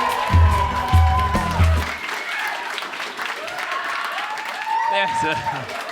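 An audience at a live comedy show in Melbourne breaks into broad applause that keeps going steadily for several seconds, with talk over it at the start and again later.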